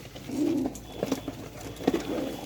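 Pigeons coo in their enclosure, two clear bursts of low, throaty cooing with a few softer calls between, close and fairly quiet.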